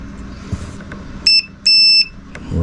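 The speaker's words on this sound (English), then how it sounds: "But there is a beep." A continuity tester checks a fuse and gives two clear high-pitched electronic beeps, one short and one longer, over faint background hiss.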